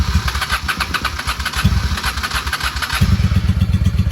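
Engine of a 1995 Honda Shadow VLX 600 motorcycle being kept running with throttle after long storage, a loud, close, lumpy V-twin idle that rises in two steps as gas is given.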